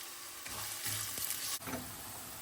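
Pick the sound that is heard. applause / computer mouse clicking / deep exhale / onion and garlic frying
onion and garlic frying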